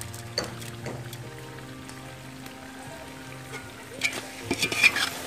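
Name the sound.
stirring chicken with masala in a pan for dum biryani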